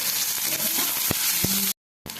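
Chopped onion fries in hot oil with popped panch phoron spices, giving a steady, dense sizzle with a few stirring knocks before a short break and a return of the sizzle.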